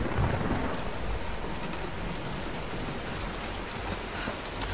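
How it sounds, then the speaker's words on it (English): Heavy rain pours steadily with a deep rumble of thunder during a storm in the game Tomb Raider, a dense continuous wash of noise that is loud and unbroken, without speech. "Nah, let's wait out the storm."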